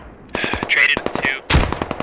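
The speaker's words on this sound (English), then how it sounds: "Got an MG out of a fucking bunker." A machine gun fires from a bunker in the video game Squad, loud close bursts of rapid rattling shots split by a brief gap, with a voice speaking over the first burst.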